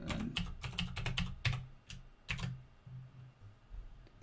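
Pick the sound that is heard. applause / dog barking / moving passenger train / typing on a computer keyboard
typing on a computer keyboard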